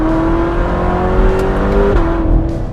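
A sports car engine in its quietest mode hums steadily at a low, restrained pitch, close and continuous, with a slight dip in tone near the end.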